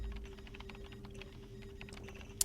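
Rapid keyboard typing from the video game Paper Mario: The Thousand-Year Door, a fast, steady patter of soft key clicks heard alone at low volume over a faint background hum.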